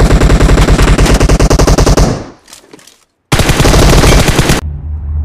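Gunfire from an AWM sniper rifle in a video game: a dense string of loud rapid shots for about two seconds, a brief lull with scattered faint noise, then another heavy burst before it cuts off.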